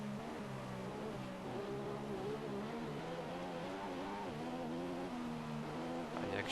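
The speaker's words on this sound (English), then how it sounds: "Listen to the engine." A Formula 1 car engine in F1 2015 whines steadily on the last corner of the Australian circuit, its pitch climbing and dropping through gear changes, heard continuously at moderate loudness with no talking.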